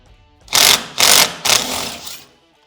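A power ratchet or impact wrench spinning off 13mm bolts from a Club Car Precedent golf cart steering box, three loud close whirring bursts in quick succession, the last one trailing off.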